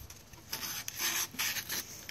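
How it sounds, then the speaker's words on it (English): Short rubbing strokes of 320 grit sandpaper scrubbing rust off a Husqvarna self-propelled mower wheel, several quick close scratchy passes in an uneven rhythm, no voices. "some fine sandpaper here. This happens to be 320 grit."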